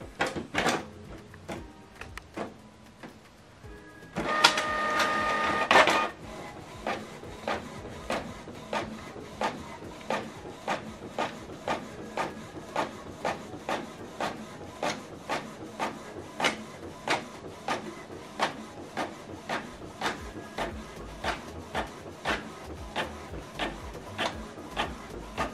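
A Canon Pixma MG3600 inkjet printer runs through a document, giving a rapid, steady train of clicking head passes and mechanical ticks after a louder burst of feed whirring near the start.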